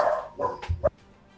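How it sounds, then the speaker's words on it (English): Several dogs barking in short, sharp bursts, about four barks close together, loud and near, with no talking. "You crest this hill, and dogs begin to bark."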